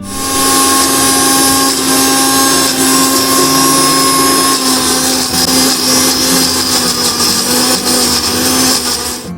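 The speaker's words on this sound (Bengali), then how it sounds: "একদিকে চলছে মিক্সার গ্রাইন্ডার" A kitchen mixer grinder grinds spice paste, a loud, continuous high-pitched motor whine with a steady grinding hum, close and unbroken for the whole stretch.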